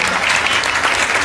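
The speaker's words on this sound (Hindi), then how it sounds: "ताली बजाइए, एक बार ताली बजाइए" An audience at a devotional bhajan gathering claps together in a loud, dense burst of applause, close and continuous.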